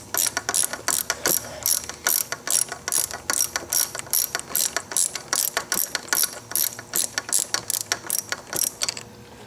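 Wrench ratcheting loose the nut on a Kawasaki Ninja ZX6R brake lever pivot, crisp bright clicks in quick rhythmic strokes, close and clear with no talk.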